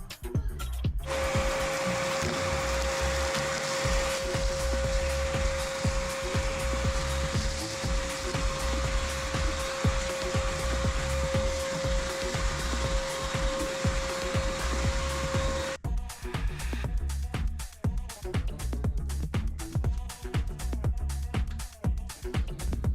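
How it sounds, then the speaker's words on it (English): A shop vacuum sucks ash out of a wood stove, a loud steady whine with a tonal hum running for about fifteen seconds, then cutting off into clattering handling noises. "Then gotta have a shop vac to clean all that."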